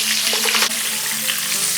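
Cauliflower florets frying in hot oil with salt and turmeric give a steady, close sizzle with soft crackles and a brief stir near the middle, no voices.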